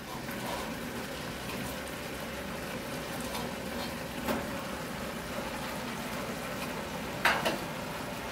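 Vegetables for goulash sizzle and fry in a pan, a steady soft crackle throughout with a couple of brief stirring clatters near the end, fairly quiet and with no talking.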